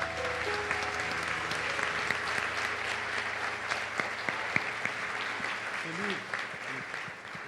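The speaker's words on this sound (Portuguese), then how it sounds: "Salva de palmas para o Senhor." A church congregation claps in praise after a prayer, steady mixed applause running throughout, with voices and a low hum of music or room tone beneath and a few louder individual claps standing out.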